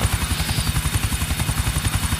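Helicopter in the GTA IV video game, its rotor thumping in a loud, steady, rapid rhythm throughout with a constant engine drone and no voices.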